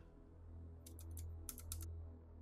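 Quiet bursts of keystrokes on a Windows computer keyboard, two short clusters of rapid clicks over a low steady hum.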